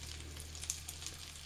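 Hot dog frying in a pan gives a steady, soft sizzle with faint crackles and pops, heard alone and fairly quiet.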